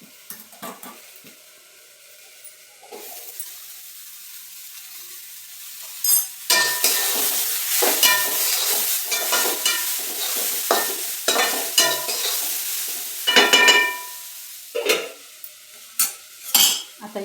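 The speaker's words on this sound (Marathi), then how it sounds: "आता आपल्याला वरणाला ही फोडणी द्यायची आहे." Tempering for dal frying in a pot on a low flame, a close sizzle with frequent metallic clinks and scrapes of a spoon and utensils, quiet at first, then busier and louder, no talking.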